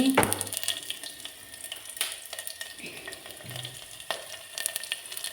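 Steady sizzling of chili, onion and garlic frying in hot oil, with occasional stirring scrapes and clinks of a utensil against the pan.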